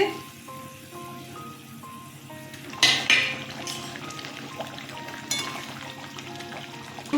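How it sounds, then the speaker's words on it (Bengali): Pieces of katla fish are dropped into boiling curry gravy for kalia, giving a few sharp splashes and sizzling bursts over a steady bubbling simmer, with background music playing. "ঝোল ফুটে গেছে মাছগুলো ছেড়ে দিচ্ছি"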